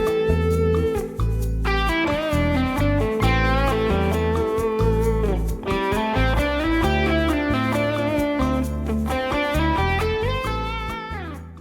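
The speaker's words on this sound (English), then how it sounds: "if I play licks using just the minor pentatonic" Electric guitar licks on the minor pentatonic scale, a run of distorted, sustained lead notes with bends and phrasing pauses, loud and close with no talking.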